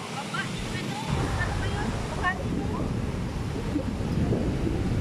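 Heavy surf roars and churns without pause, waves breaking close by on a Cancun beach amid gusty wind, with a voice calling out faintly over the noise.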